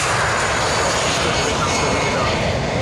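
Loud, steady roar of an Airbus airliner flying away from the airfield at an air show, a broad continuous engine rush with no breaks.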